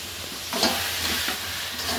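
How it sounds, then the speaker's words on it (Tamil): Onions and tomatoes sautéing in a pan with turmeric and rock salt give a soft continuous sizzle, broken by a few light stirring scrapes, close and without talk. "கிளறி விட்டுடலாம்ப்பா. கொஞ்சம் நேரம் வதங்கட்டும்."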